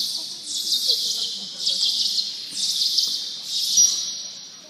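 A dolphin making its bird-chirp call at a dolphin show, a series of high, bright chirping bursts repeating about once a second, fairly close, over low background crowd noise.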